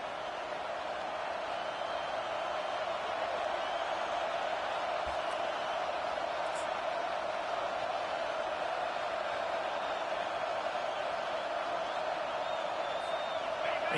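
Steady roar of a stadium crowd cheering in NCAA College Football 25, a dense continuous wash of noise holding at constant loudness throughout, with faint whoops poking through.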